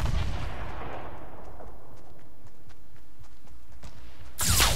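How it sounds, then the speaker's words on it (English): A heavy gunshot from a sniper rifle in Fortnite Battle Royale, one booming report followed by a long fading echo and light scattered clicks, with a second sharp burst at the end. "He sniped me real good."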